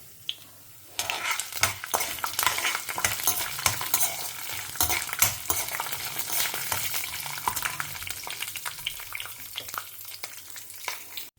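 Eggplant stir-fried in a pan, the spatula scraping and tossing it over a steady sizzle with frequent sharp clinks, running continuously for about ten seconds with no talk.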